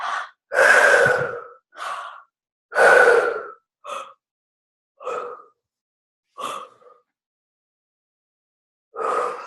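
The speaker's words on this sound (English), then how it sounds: "do your deep forceful breathing" Deep, forceful breaths during a guided emotional release exercise: loud drawn inhales and exhales in separate bursts, two long heavy ones and several shorter ones, close and alone with silent gaps between.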